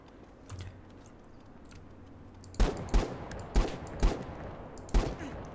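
Five sharp gunshots from The Day Before ring out in an irregular burst over a quiet game ambience, each a loud crack with a short tail.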